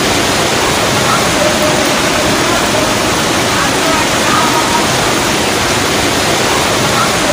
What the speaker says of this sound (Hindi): नदी उफान में आई, उफान पर आई